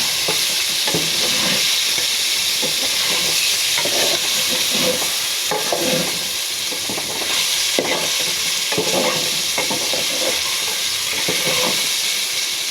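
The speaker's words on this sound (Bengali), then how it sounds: "নাড়াচাড়া করে দিব তেলের ভিতরে মাছগুলো।" Loud, steady sizzle of tengra and koi fish frying in oil, with repeated stirring and scraping sounds throughout, close and constant.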